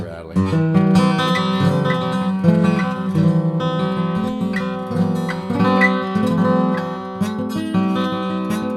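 A 1989 Yamaki acoustic guitar is picked lightly up and down the neck, ringing sustained notes and chords close and alone.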